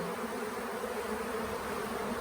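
Swarm of honey bees at a hotel, a dense continuous buzzing drone filling the space, steady and close with no voices.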